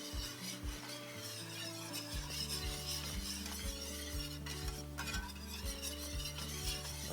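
Shrimp stock poured into a sizzling pan for Cajun-style shrimp scampi, a steady close fizz and bubbling with stirring and scraping of a utensil against the pan, over a low humming drone throughout.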